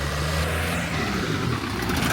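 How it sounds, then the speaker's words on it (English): An old, noisy car passes along a street in Tirana, Albania, its engine rumbling loudly and roughly for a couple of seconds close by. "Oh, noisy old car there."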